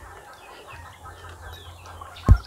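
Chickens at a poultry farm clucking and calling softly in the background, scattered low murmuring bird sounds, ending with a sudden loud thump close by.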